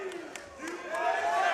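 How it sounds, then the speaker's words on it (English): A large esports arena crowd at the BLAST Premier Spring Final 2023 semifinals murmurs, then swells into louder, sustained collective noise that carries through the second half, with no clear single voice above it. "Can we get some chants going?"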